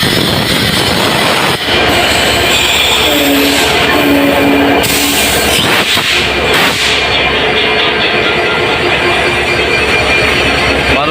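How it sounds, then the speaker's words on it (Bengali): The Silk City Express from Rajshahi pulls into Kamalapur railway station, loud and close, with a rumbling roar, screeching wheel squeals and clattering carriages that ease off as it slows. "আপনারা দেখতে পাচ্ছেন একটা ট্রেন আসছে। এটা হচ্ছে রাজশাহী থেকে সিল্ক সিটি এক্সপ্রেস।"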